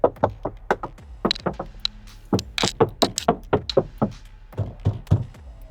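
Knuckles rap on a 2011 Chevrolet Tahoe door panel lined with sound deadening, a quick series of close, solid, dull knocks in uneven bursts with short pauses between.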